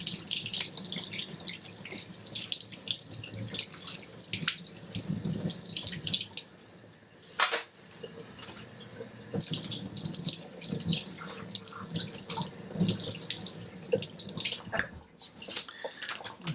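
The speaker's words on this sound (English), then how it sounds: "Then I'll wash it under the tap." A horse mackerel is rinsed under a running kitchen tap, water splashing and gushing close by with shifting flow and brief pauses as the fish is turned.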